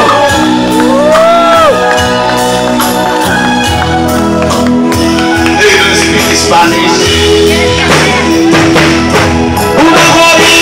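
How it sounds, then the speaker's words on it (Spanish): A loud crowd at a live party show cheers, shouts and whoops over band music, the noise continuous and energetic throughout. "¡Aplausos para ellos!"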